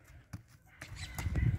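A few hoof knocks ring out from a pinto Criollo horse at a sale in La Plata, sparse and fairly close, with a voice coming in low toward the end.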